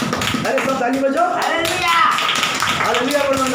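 Congregation clapping hands at a Hindi Christian church service, a dense, continuous rhythmic patter of many hands with a preacher's voice speaking over it.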